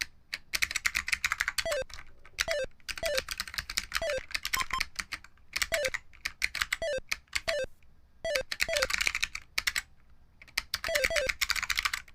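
Fast, steady typing on a keyboard with Matias clicky switches in a resin case: dense bursts of crisp, sharp key clicks recorded up close, broken by short pauses, with a repeating chime-like tone in the background and no talking.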